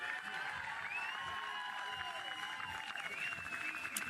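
A crowd in the stands at a professional softball game cheers and applauds, a steady wash of noise with whistles and shouts rising from it, heard at a distance.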